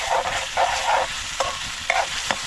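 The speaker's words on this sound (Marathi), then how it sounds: "मासे टाकूया आता मध्ये टाकतो एक एक पीस आपल्या कालवणात" Fish pieces dropped one by one into a simmering fish curry cooked outdoors over a fire in the forest, giving soft bubbling and sizzling with a few sharp clinks and plops, close and fairly loud, no voices.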